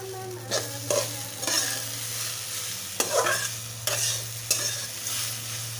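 Grated sweet potato with crushed peanut powder sautéed in a pan, a spatula scraping and tapping at intervals over a steady low sizzle, with a constant hum behind.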